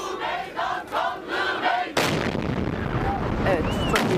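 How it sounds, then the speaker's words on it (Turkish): Voices chant and shout rhythmically, then a sudden loud explosion in Ankara cuts in, followed by sustained rumbling, crowd noise and scattered cries. "hemen arkalarında sol tarafta şiddetli bir patlama sesi duyuluyor"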